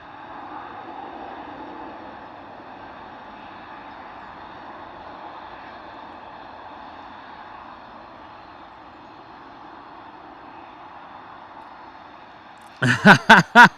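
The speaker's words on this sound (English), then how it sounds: "The Ryanair 737" Ryanair Boeing 737 landing at Bristol Airport in wet, stormy weather, a distant steady jet roar that slowly fades, ending with a few sharp close knocks.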